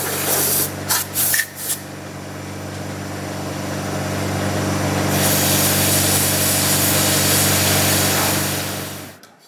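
An end mill cuts metal on a milling machine, a loud, steady high hiss with a constant motor hum beneath it, preceded by a few sharp bursts, then cutting off abruptly at the end.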